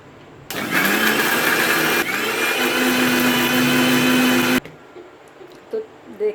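Blender grinding whole red chilies, tamarind and salt for chutney, a loud motor whir that starts abruptly, dips briefly, runs steadily with a rising pitch, then cuts off, leaving faint clinks afterward.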